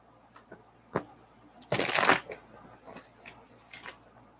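Tarot cards being shuffled by hand, with a few soft flicks, then a loud riffling burst in the middle, followed by lighter scattered card slides and taps, close up and with no voice.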